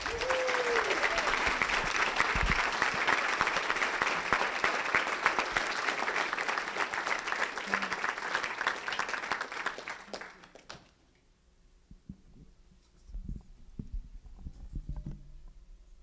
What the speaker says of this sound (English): Can we get a round of applause for Desiree Ducals?